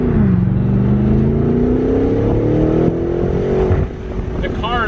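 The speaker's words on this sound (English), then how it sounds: "The car literally goes like that when you start to accelerate" A 2020 BMW M8 Competition engine accelerates with a rising, droning roar, loud and close, then eases off near the end.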